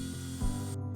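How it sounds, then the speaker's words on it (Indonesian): A power drill bores a hole through a mangrove wood and resin accessory, humming steadily with a brief surge as it cuts, then cutting out abruptly before restarting; no speech. "dilubangi dengan bor"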